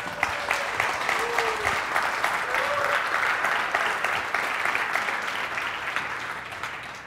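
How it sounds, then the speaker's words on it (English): Sustained audience applause at a Debian conference as the project leader takes the stage, dense steady clapping throughout with a couple of faint whistles, fairly loud and alone. "So everybody give a round of applause."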